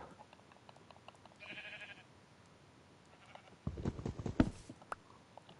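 Sheep bleat in the video game Minecraft, a pink sheep among them, with a couple of short bleats and scattered game clicks and steps, then a louder burst of bustle near the end.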